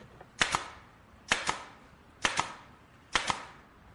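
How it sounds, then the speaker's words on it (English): A nail gun drives nails into hard wood: four sharp, evenly spaced double cracks about a second apart, each punchy and close, with quiet between shots and no talk. "I think I'm going to need the nail gun."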